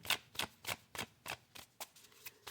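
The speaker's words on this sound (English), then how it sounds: "I normally just shuffle until I feel it in my spirit" A deck of oracle cards is shuffled by hand, giving about nine crisp riffling bursts in a quick, regular rhythm. It is close and quiet, with no talk.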